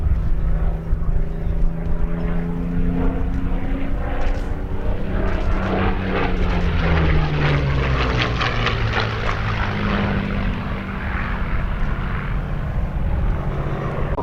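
P-40 fighter with a propeller engine flying at the Duxford Battle of Britain airshow, a steady droning roar with sliding tones as it passes, loudest midway and fairly distant.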